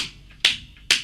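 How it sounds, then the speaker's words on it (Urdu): A right hand slapping the back of the left hand, two sharp claps about half a second apart, close and crisp over a quiet background, with no voices. "سیدھے ہاتھ کو الٹے ہاتھ پر مارنا"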